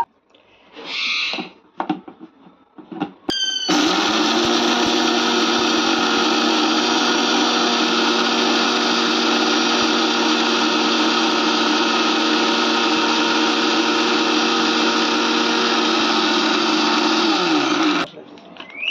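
An electric spice grinder pulverizes lightly fried bay leaf, dry chilli, coriander and cumin, a loud, steady, high-pitched motor whine running about fourteen seconds after a few brief handling knocks, then cutting off abruptly.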